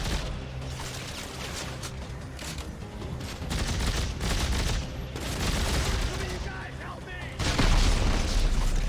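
Rapid weapon fire in Dead Space 3 crackles and booms in dense bursts, loud and continuous with heavy low rumble, a sharper surge near the end, and someone talking over it.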